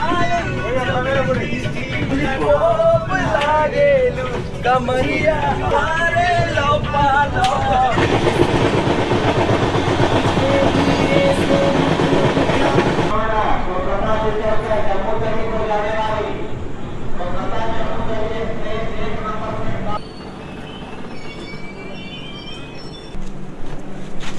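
The Kolkata–Jammu Tawi express train 13151 rumbles along the rails at night near Paharpur station with rhythmic clattering and a steady roar, while voices talk over the noise.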